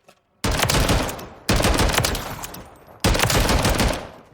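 A Remington ACR 6.8 rifle in Call of Duty Modern Warfare III fires three close, loud bursts of rapid automatic fire at about 400 rounds per minute, each burst cut off by a brief pause.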